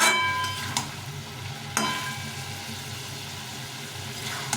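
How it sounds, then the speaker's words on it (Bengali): Cauliflower sautés in hot oil for a bata fish curry, a continuous soft sizzle with a couple of brief stirring scrapes, close and fairly quiet. "তো এইভাবে আমি সবজিটাকে সুন্দরভাবে কষে দিই"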